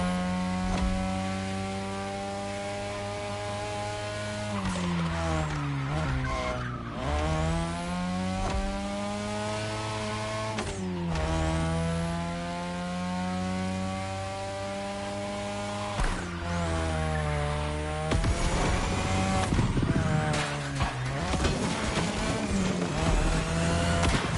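A racing car in The Crew drives through a Touge mountain run, its engine rising and falling steadily through gear changes, with tire squeal and scraping during hard cornering toward the end.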